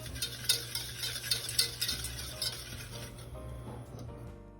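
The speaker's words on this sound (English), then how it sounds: "And then we're gonna whisk it all together." Candied yam mixture being whisked in a bowl, rapid close clinking and scraping strokes in a quick rhythm for about three seconds, then easing off.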